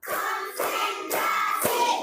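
A class clapping game in a classroom: four distinct sharp group claps spaced about half a second apart, fairly close and clear.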